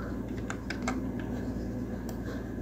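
Steady typing on a computer keyboard while configuring VLANs in Cisco Packet Tracer. The light key clicks come in quick irregular bursts over a constant background hum.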